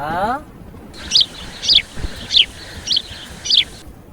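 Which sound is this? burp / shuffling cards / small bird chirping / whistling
small bird chirping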